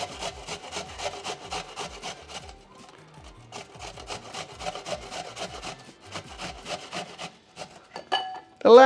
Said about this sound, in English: I use the coarse side of a box shredder